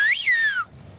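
A person on a Greek island whistles one short rising-and-falling tune, clear and close, with quiet background afterwards.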